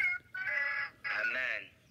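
A rooster crows at a distance, two drawn-out calls separated by a short gap, with faint background noise.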